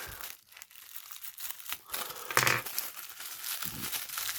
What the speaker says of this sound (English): I will again use my little scissors to try to penetrate the pack